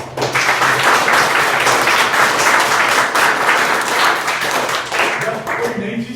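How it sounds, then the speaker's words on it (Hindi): Children at a school event in Azamgarh, Uttar Pradesh, clapping their hands together in a steady rapid patter that carries on for several seconds, loud and close, with voices mixed in. "ताली बजाओ।"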